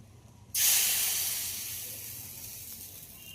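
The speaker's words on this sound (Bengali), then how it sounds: "এবার গুলে রাখা ব্যাটারগুলো দিয়ে দিতে হবে।" Rice batter hits hot oil in a clay pitha mould over a clay stove, bursting into a loud, sudden sizzle that slowly fades to a steady crackling hiss.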